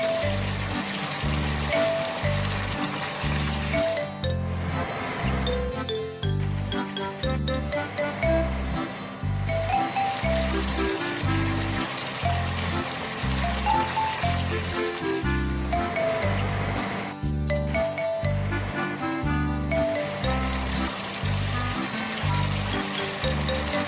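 Water sprays steadily from a sprayer truck onto dry soil in a farming video game, a continuous hiss and trickle under looping tonal game music with a strong steady beat.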